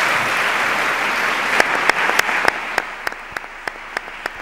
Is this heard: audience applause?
yes